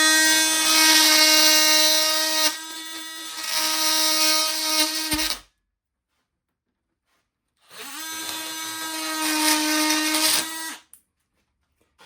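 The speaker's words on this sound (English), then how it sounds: "I'm just going to cut that off even across there." A high-pitched power cutting tool whines loudly through metal, cutting off a lip on a Hooke Road bumper. It runs in two long stretches separated by a few seconds of silence.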